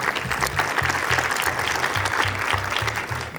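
Applause for the film team at a cinema premiere in Marseille, steady clapping from a seated audience throughout, with a rhythmic low thumping pulse running underneath.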